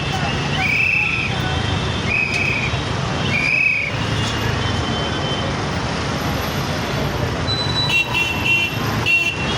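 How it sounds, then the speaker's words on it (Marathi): Heavy road traffic in a jam in Kalyan, with a steady engine roar, three short horn toots near the start and more honking toward the end, over a background babble of voices. "येत आहेत गाड्या"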